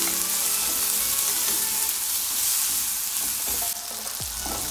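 A spice tempering of amchur and red chilli for daal ka dulha sizzles loudly in hot oil while being stirred, a steady crackling fry with a few scraping spoon strokes near the end.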